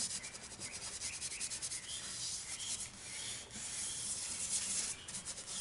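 A cloth rubs Howard's Feed and Wax into a turned hackberry wood bowl, giving a steady, close, soft scrubbing hiss with rhythmic back-and-forth strokes and brief pauses.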